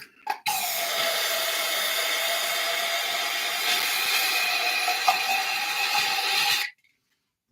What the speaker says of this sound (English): let's get the brake cleaner